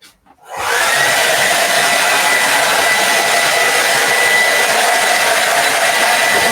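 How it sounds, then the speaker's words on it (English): A hair dryer blows on clear vinyl to warm and soften it, starting abruptly after a brief quiet moment and then holding a loud, steady, close-up whoosh for the rest of the clip. "I'm gonna hit this with the hair dryer real quick."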